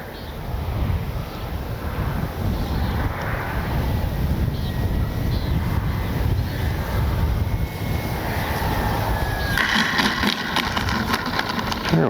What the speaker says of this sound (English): I got enough of a wind and now it's more out of the due west